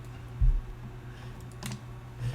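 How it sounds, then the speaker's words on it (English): A computer keyboard is typed on nearby, with one hard thump of the space bar followed by a quieter cluster of key clicks over a faint steady hum. "There's the space bar that's not working anymore."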